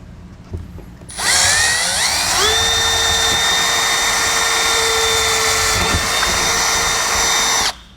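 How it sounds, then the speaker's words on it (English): A power drill bores through a trailer door stuffed with styrofoam while fitting a plastic-stem, rubber-socket door holder; the motor whines loud and steady for about six seconds after a brief start, with no talk. "And we'll grab our drill bit and drill through."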